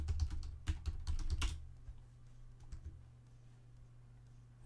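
Rapid bursts of typing on a computer keyboard fill the first couple of seconds, close and clear, then thin out to a few scattered keystrokes over a steady low background hum.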